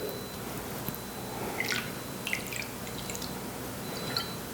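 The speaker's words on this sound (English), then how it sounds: "Now we're going to add 2 ounces of the Basil Hayden Kentucky Straight Bourbon Whiskey." Basil Hayden Kentucky Straight Bourbon Whiskey poured into a cocktail glass, a steady liquid trickle with small dripping splashes over a constant hiss of background noise.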